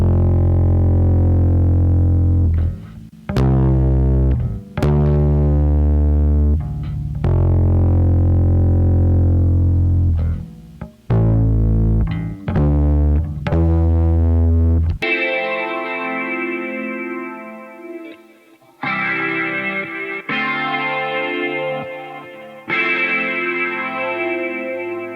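Recorded guitar and bass parts for a music track, heavy effected tones with chorus and distortion, loud and continuous; a thick low-end bass-driven section gives way to a brighter, thinner guitar passage in the second half.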